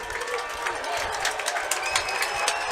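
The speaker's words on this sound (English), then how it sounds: "You can hear this crowd getting into it." High school varsity football crowd at a Warren G. Harding Raiders game against Youngstown Ursuline, a moderately distant roar of cheering and scattered clapping building steadily under a commentator's voice.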